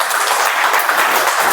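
Members of a Toastmasters meeting give a brief, steady round of applause for a speaker after his icebreaker speech, the clapping close and even throughout.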